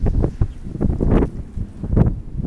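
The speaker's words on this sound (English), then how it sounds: "It's very windy out here today, so sorry for that" Strong wind gusts buffet a microphone outdoors in a garden with blooming apple trees, producing a steady low rumble with surging bursts throughout.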